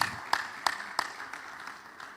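Conference audience applause at Flexoedge 2026, a few distinct loud claps standing out over a thinner, fading patter of clapping.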